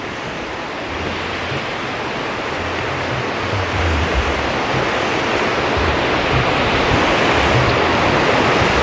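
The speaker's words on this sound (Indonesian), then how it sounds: "Jadi pertemuan antara sungai kanan kirinya ini bertemu di sini nih." Two rivers meet near the Cisolok geyser in Indonesia, their joined flow making a steady, loud rushing roar of water that slowly swells over several seconds, with a brief voice near the start.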